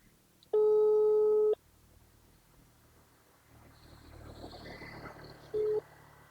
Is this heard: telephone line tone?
yes